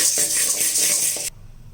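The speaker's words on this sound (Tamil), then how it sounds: "இப்போ இதை எடுத்து ஒரு தட்டில் கொட்டிடலாம்" Roasted lentils for idli podi pour from a pan onto a plate in a dense, close, bright hiss that lasts over a second, then stops abruptly and leaves a quiet room.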